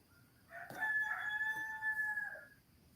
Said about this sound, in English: Listen to that rooster.